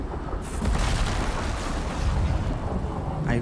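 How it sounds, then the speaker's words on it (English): Thunder from lightning in the survival video game Icarus rolls as a loud, continuous rumbling boom that fills the whole stretch, with a sharp crack near the start. "most of you can't really hear me because of the stupid lightning"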